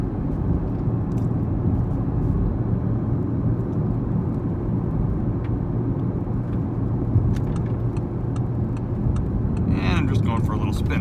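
A 2018 Audi TT RS in Catalunya Red drives with its windows up, a steady low engine drone and road rumble heard from inside the cabin, with a brief higher rise near the end.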